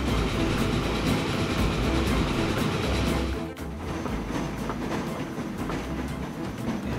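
A train rolling along the rails in the game Train Fever, a steady rumbling clickety-clack that carries on unbroken, with a short dip in level partway through before the run resumes.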